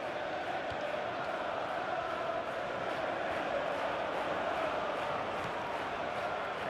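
A stadium crowd in the FIFA 14 football video game keeps up a distant, steady roar and murmur with faint rhythmic chanting and no sharp peaks.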